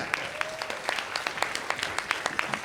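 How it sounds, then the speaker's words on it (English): Applause from an awards-ceremony audience, brisk and even, with many individual claps audible in a lively, continuous patter. "yes, you can clap"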